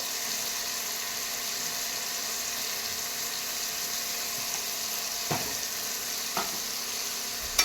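Vegetables for veg chowmein frying in hot oil, a steady broadband sizzle running throughout with a few brief stirring clatters near the end, no voices.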